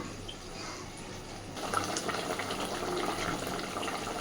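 A little water pours into a pan of sardine fish curry, a low soft trickle that swells into a steadier gush and runs on to the end.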